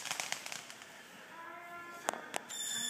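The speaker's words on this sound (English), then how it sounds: "lighting fireworks next door here." Fireworks set off next door on New Year's Eve pop and crackle in a scattered string of sharp bursts, moderately distant, amid background noise.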